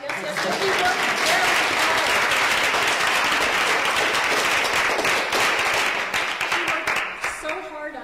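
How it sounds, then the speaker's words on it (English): An audience at a campus science talk applauds loudly and continuously, a dense wash of clapping that swells early, holds steady, then thins out near the end as a voice starts to come through. "please applaud"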